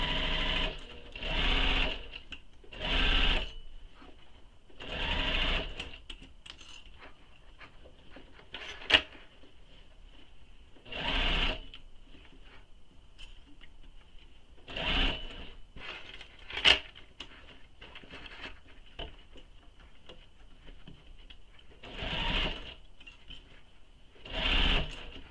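A sewing machine stitches handbag end panels in short bursts, each run a quick buzzing whir, repeated about nine times with quiet pauses and faint handling clicks between them, fairly close and soft.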